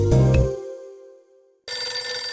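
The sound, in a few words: telephone ringing in the video game Hotel Dusk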